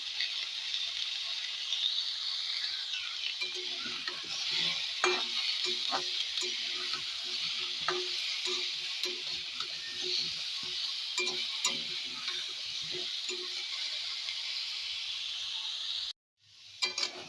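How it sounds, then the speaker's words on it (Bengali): Pumpkin and onion sizzling in a pan with turmeric and salt, a steady hiss of frying broken by repeated scraping stirs, close and continuous with no talk. "কুমড়ো আর পেঁয়াজটা নেড়ে চেড়ে নিয়েছি একটু ভাজা ভাজা হয়েছে"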